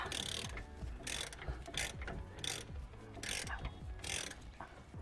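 Ratchet working on a bolt of a BMW V8 M3's brake, close and distinct, with repeated bursts of rapid clicking broken by short pauses, throughout the clip.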